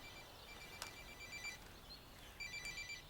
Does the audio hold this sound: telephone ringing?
yes